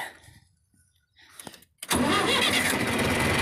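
John Deere tractor engine cranking briefly after some quiet handling noises, then catching and running loudly and steadily at close range.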